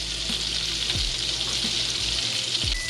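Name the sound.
searing vegan Salisbury steak patties in a pan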